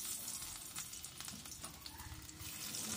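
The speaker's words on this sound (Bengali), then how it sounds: "ওই তেলের ওপরেই এখানে দিয়ে দিলাম রসুন কুচি।" Chopped garlic sizzling in hot oil left over from frying baby corn, a steady, close crackle and hiss that continues without pause and with no talking.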